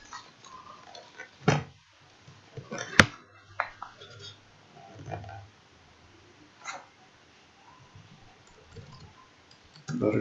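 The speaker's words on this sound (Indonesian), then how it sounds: "Kita ketik ya." Keys clack on a computer keyboard in short irregular bursts, close and fairly crisp, with a few louder single taps and quiet pauses between.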